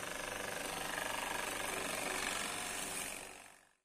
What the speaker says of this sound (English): So I'm going to start with 35 millimetres on my drill press.